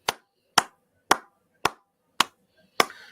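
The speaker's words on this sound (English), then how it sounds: "So can we clap slow?" Six slow, evenly spaced hand claps ring out alone, crisp and close, about half a second apart, with the last clap slightly heavier and trailing off.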